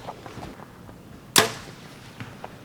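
An arrow shot from a bow strikes a 3D archery target at an outdoor archery challenge in Tennessee, one sharp close thwack after a quiet stretch with faint background noise.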